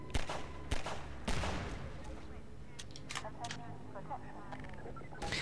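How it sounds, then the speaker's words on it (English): Pistol gunshots from the video game Half-Life 2, a few sharp loud cracks early on with sparser, fainter impacts later, set against constant game ambience. "Even the basic pistol is just so fun to shoot people with."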